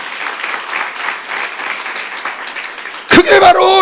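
A church youth-service congregation claps as a distant, diffuse patter that runs under the ongoing sermon. A loud, close voice then cuts in near the end.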